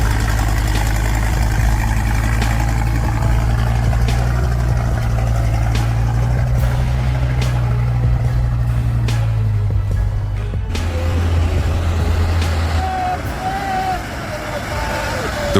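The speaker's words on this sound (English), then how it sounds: "The roar of the diesel engine tore through the quiet of the mountains and forests" The diesel engine of a timber truck heavily loaded with large logs rumbles low and steady near the listener, with a voice talking over it most of the time.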